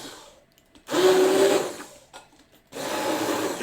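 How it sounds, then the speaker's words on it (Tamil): Electric blender mixing banana and sugar for a chocolate banana cake batter, two short loud whirring bursts separated by a pause, with a faint rattle between them. "நான் இங்கே பிளெண்டர் எடுத்திருக்கேன்."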